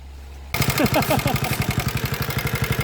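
A noisy motorcycle engine from Victoria, Tarlac kicks in after a half-second of quiet and runs loud and close, with a rapid, rough, clattering beat that holds steady to the end.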